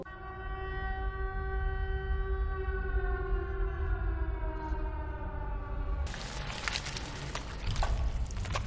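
A town siren in the Silent Hill horror film wails long and loud with a steady droning tone for several seconds, then gives way to harsh, crackling noise and rumbling.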